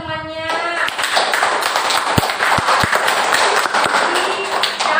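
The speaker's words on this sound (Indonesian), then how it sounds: "Tepuk tangan dulu buat temannya." Students in an Indonesian classroom clap for a classmate. A brief voice opens the clip, then a steady patter of many hands continues with a few sharper, closer claps standing out, all at moderate loudness.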